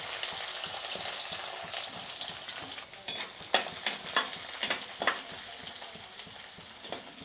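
Garlic frying in hot mustard oil after fenugreek seeds, for bathua saag in winter: a steady close sizzle and crackle with a run of sharp spattering pops in the second half, no talking.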